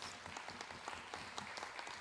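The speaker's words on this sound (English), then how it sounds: "everybody, just give Mariva a round of applause" Faint applause from an audience at a public forum on a proposed bond referendum, scattered claps in a soft, brief burst heard from a distance.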